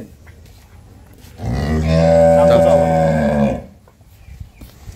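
A local-breed milking cow sold at a rural home lets out one loud, long, close moo lasting about two seconds, with faint talk before and after.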